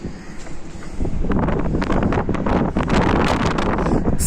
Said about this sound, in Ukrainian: Чуєте, як виє вітер?